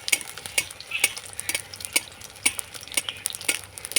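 Ripe jackfruit poa pitha batter frying in oil in a pan, a soft continuous sizzle broken by repeated sharp scrapes and taps of a metal spatula spreading the oil around, close and fairly quiet.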